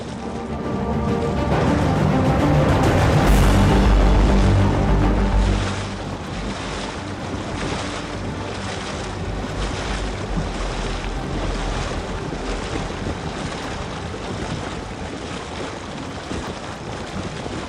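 Strong wind roars across the mic over choppy waves slapping on the Ili River during a kayak trip, loud and continuous with surging gusts, no voices.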